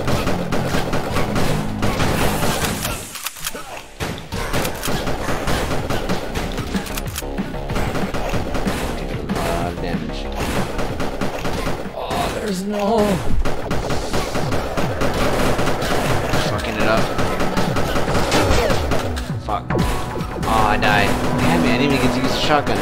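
Gunfire in the game Cannibal Crossing: sustained, loud, cluttered shooting and crashes layered with busy game noise and music, running under voices talking throughout.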